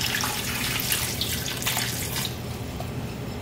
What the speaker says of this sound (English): Plain old water, however, that is hot water.